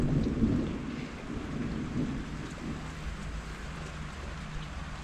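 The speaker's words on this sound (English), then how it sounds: "It looks like a pretty gnarly storm that happened earlier today." A July 2021 thunderstorm over Greater Manchester brings a deep rumble of thunder at the start that fades into a steady hiss of rain falling on surfaces, with no voices.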